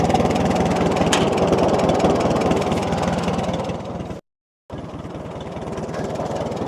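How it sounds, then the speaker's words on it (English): An antique Farmall tractor engine idles with a steady, even low chugging pulse, close and loud, broken by a brief half-second dropout before the idle resumes unchanged. "She idles just slick as buttermilk, doesn't it?"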